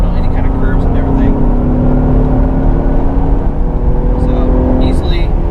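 A 2020 Lincoln Aviator SUV cruises at highway speed around 80 mph, giving a loud, steady road and engine drone with a low hum, while a voice speaks briefly over it.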